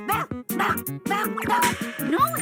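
A small dog, apparently cartoonish, gives a quick run of high yips and short barks, close and loud, with a whimpering edge between the calls.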